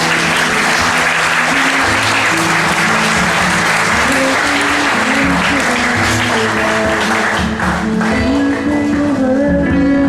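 A church congregation applauds and cheers for the Lord in a loud, dense, continuous wave of clapping that fills the room without pause.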